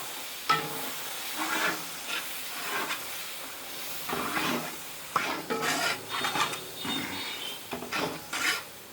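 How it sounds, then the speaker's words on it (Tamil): Spices and tomato masala are stirred together in a hot pan, with a steady sizzle under repeated scraping strokes and occasional clinks of the utensil against the pan, all close by. "எல்லாத்தையும் சேர்த்து மொத்தமாக கிண்டுறோம்."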